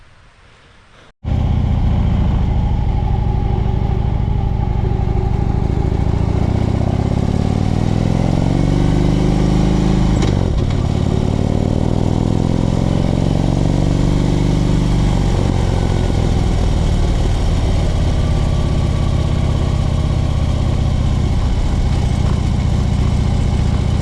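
A Harley-Davidson motorcycle rides along a countryside road in Australia, its loud, close engine droning continuously with gear changes and shifts in revs over the whole stretch, after a brief quiet moment at the start.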